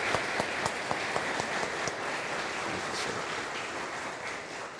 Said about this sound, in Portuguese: Então vamos também receber o Dr. Daniel Wallace com a salva de palmas.